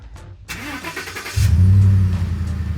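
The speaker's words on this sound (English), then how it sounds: "The truck will now go through its startup procedures and start." A Ford F-150 pickup truck starts by remote: a quiet pause and a brief whine, then the engine cranks and catches, settling into a loud, steady idle close by.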